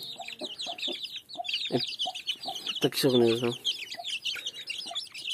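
Aseel hens cluck in short repeated bursts with one louder squawking call midway, while a person speaks quietly nearby and small birds chirp in the background.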